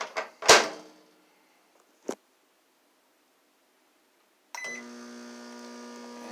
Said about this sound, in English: as you can see, it's kind of noisy, but it's a pretty standard microwave noise